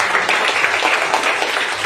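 A live audience at an OK Life Care training session in Raigarh, Chhattisgarh breaks into steady, dense applause, many hands clapping continuously at close range for the whole stretch, with faint voices mixed underneath.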